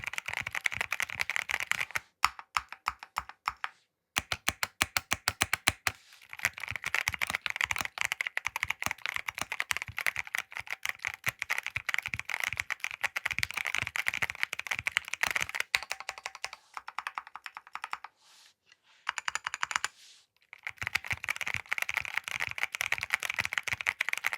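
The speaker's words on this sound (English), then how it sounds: "put a sound clip on what this sounds like typing because I absolutely love the audible sound that you get out of this keyboard" A Keychron Q3 Max mechanical keyboard is typed on up close, dense runs of crisp clacking keystrokes broken by short pauses, loud and alone.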